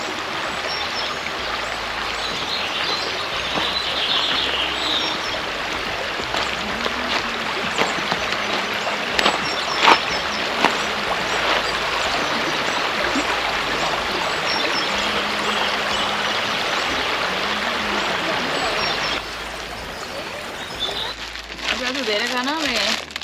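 Stream water flows steadily beside a bush campsite in Australia, a constant close rushing murmur with a few faint knocks, ending with a short shift in sound near the end.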